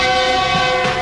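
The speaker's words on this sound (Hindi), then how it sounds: "G20 का बहुत ही ज़बरदस्त हॉर्न आपने सुना है रहीम यार खान रेलवे स्टेशन से" A loud, sustained G20 diesel locomotive horn blares close by at Rahim Yar Khan railway station, Pakistan, with a rich, steady multi-tone chord.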